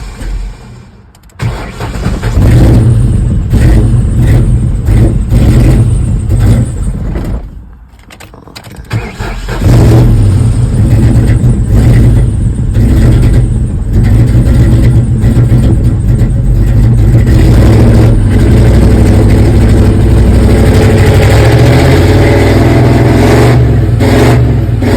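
A 2004 Ford Mustang GT with a manual clutch cranks, catches and stumbles, then its V8 engine roars and revs loudly close by for a sustained stretch, with a brief dip as it nearly dies.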